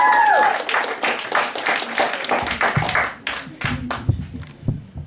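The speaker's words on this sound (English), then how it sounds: "Can we give him a round of applause?" A crowd at a spoken word poetry event breaks into loud, dense applause that gradually thins into scattered claps and tails off toward the end.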